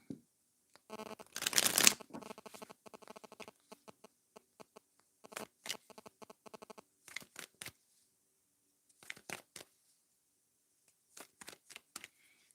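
Tarot cards being shuffled by hand, a dense riffling burst early on followed by intermittent soft flicks and taps of the deck, close and fairly quiet with no talking.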